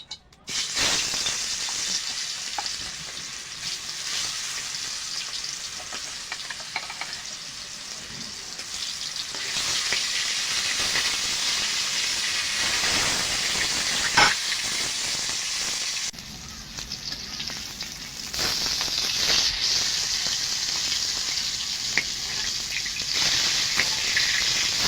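Pangas fish frying in hot oil in a kadai, a steady loud sizzle that runs without a break, with brief stirring and clatter and a short dip partway through.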